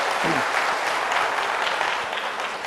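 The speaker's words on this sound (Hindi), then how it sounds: "भाई तालियां तो बजाइए, है ना।" Audience at a talk breaking into full, sustained applause, dense clapping close and loud throughout, with a brief voice at the start.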